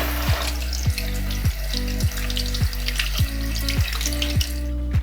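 Makeup brushes rinsed under a running tap, a steady close rush of water with rhythmic splashing pulses as the bristles are worked under the stream.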